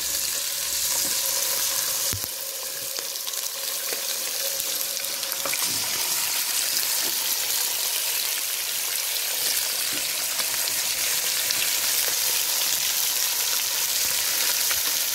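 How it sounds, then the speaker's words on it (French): Skin-side chicken pieces sizzle loudly in a very hot pan, a constant crackling hiss with occasional sharper pops and scrapes, no talking. "pendant que la casserole est très chaude pour bien saisir la viande et bien la colorer"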